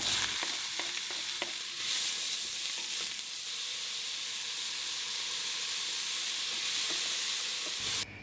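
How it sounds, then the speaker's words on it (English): Onions and garlic soften in oil in the bottom of a heavy pot, giving a broad, continuous sizzle with scattered crackles and occasional scraping stirs, close and steady throughout. "I'm going to start off by softening my onions with my garlic and a bit of oil in the bottom of the pan."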